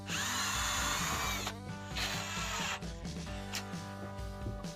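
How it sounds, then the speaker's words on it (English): A power drill whines loudly as it pre-drills a screw hole in a fishing kayak, in a long burst, a pause, then shorter bursts at varying speed, close by and with no talk. "Go ahead and pre-drill that like always."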